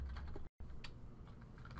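A user ID being typed on a computer keyboard, a steady run of quiet, close key clicks with one brief silent gap.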